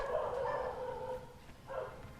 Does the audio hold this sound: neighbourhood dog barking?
yes